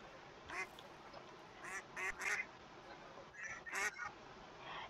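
Several bursts of duck quacking in Minecraft, short nasal calls clustered in twos and threes over steady ambient game noise, moderately close.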